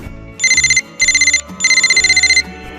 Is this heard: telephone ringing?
yes